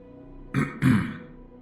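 A man clears his throat twice in quick succession, close and distinct, against a quiet background.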